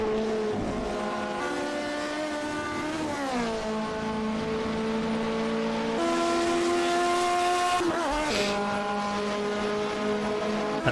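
Alfa Romeo 155 Ti race car engine in a racing video game at Spa-Francorchamps, roaring steadily and loudly throughout, with pitch climbing through the gears and dropping sharply at several gear changes.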